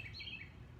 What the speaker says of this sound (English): I get to hear the birds sing while I do this,